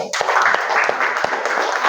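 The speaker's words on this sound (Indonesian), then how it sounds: "Tepuk tangan dulu." Classroom students clap together after presentations, a brisk, fairly close burst of many small hands with a few sharper individual claps standing out.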